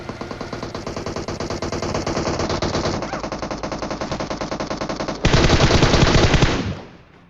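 Rapid automatic gunfire rattles between teams in a battle royale video game at a military base, sustained bursts running for several seconds, growing louder and denser near the end before cutting off.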